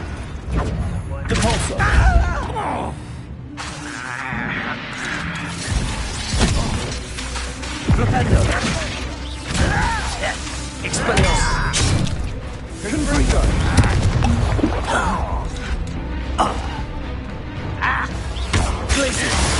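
Spells cast in Hogwarts Legacy combat, with Confringo and Expelliarmus blasts: dense crashing, whooshing and mechanical impacts layered over game music, loud and continuous throughout with shouted voices.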